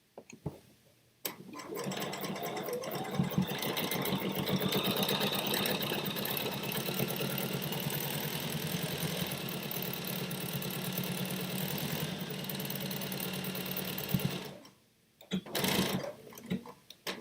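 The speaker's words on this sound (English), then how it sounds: "So I'm going to sew that down." Sewing machine stitching fabric at a fast, even mechanical rattle for about thirteen seconds, close and steady, then stopping briefly and running one more short burst, with no voices.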